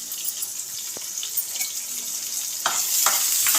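Onions fry in a pan for stuffed brinjal, giving a soft, steady hiss with a few faint clicks and a slightly louder burst of sizzling near the end.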